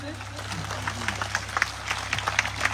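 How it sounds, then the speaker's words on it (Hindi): Clapping from a church congregation at a pastor's worship service, scattered and uneven over a steady low hum, with voices mixed in beneath the claps. "आप एक बार फिर जोर से ताली बजा दें"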